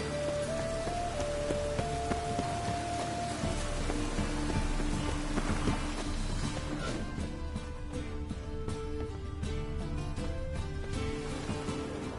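Steady rain falls throughout in The Witcher 3 video game, a constant wash of drops heard under soft game music, with no talk.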